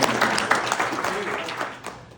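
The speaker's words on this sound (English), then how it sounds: "let's give them a real quick round of applause" Brief round of applause from a high school cross country team gathering after a captain's speech, moderately loud clapping that fades toward the end, with voices mixed in.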